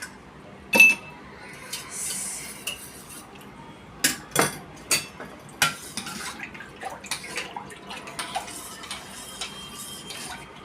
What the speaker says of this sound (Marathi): हे बर्फाचे एक खड टाकते मी।